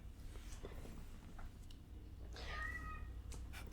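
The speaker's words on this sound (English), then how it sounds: "I heard that. Meow." A cat meows once in the middle, a short mid-pitched call over a low steady background hum, with faint clicks around it and no talking.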